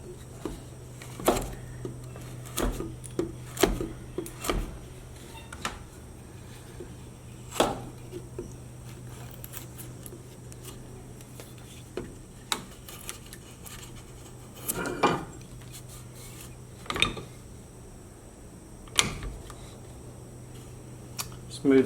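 A knife and flat gouge carve a wooden figure, giving sparse, sharp scraping cuts and small knocks spread over a quiet steady background hum, close by and fairly soft, with no talking.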